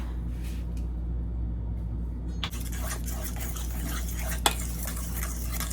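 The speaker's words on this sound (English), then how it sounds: "Just gonna mix all of that together." Banana protein muffin batter with butter and vanilla stirred in a bowl, a continuous soft scraping over a low steady hum, with a single sharp knock near the end.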